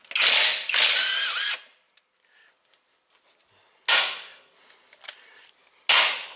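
Impact gun rattling off 16 mm mount bolts under a 2001 Mustang, three loud, close bursts of hammering with quiet gaps and faint clinks between them.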